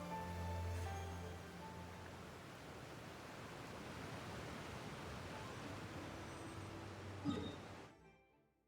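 Heavy rain in Genshin Impact, a dense, steady broadband downpour hissing without a break for about eight seconds before cutting off abruptly, with a faint low hum beneath early on.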